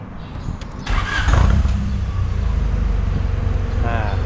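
A Honda CRX's B16A engine cranks and catches, then settles into a steady idle rumble, with a brief voice near the start.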